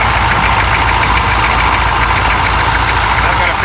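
A diesel engine on a K5 Blazer being worked on runs steadily and loudly throughout, a constant close-up drone with knocking texture.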